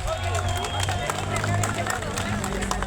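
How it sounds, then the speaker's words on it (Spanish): A crowd at a meeting of a federation of independent divers and fishermen in Guerrero, Mexico, claps amid a dense murmur of voices and room hubbub, with the applause blending into the babble. "Fuertes los aplausos."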